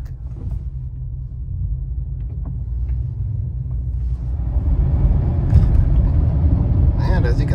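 Inside a 1990 Bentley Mulsanne S driving on the road, a deep, steady engine and road rumble continues, rising slightly in level partway through; no one is talking.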